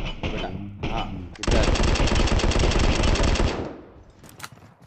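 Rapid automatic gunfire in the shooter game PUBG Mobile rattles loudly in a sustained burst lasting a couple of seconds, preceded by a few separate shots, with players' voices around it.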